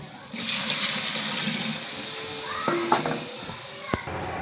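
Water poured into a cooking pan of spiced oil and ginger while making khichuri, a steady close rushing pour lasting several seconds with a few faint clinks near the end.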